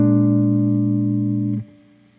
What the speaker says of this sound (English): And this is one way to play it on a guitar.